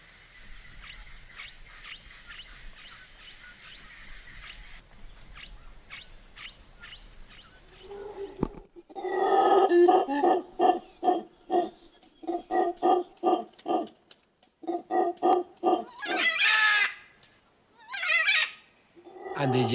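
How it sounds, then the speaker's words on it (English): Howler monkeys call in the Venezuelan jungle as loud, guttural bursts in repeated rough pulses. The calls break in after a steady high insect drone and carry on in uneven clusters with short gaps. "I can hear howler monkeys"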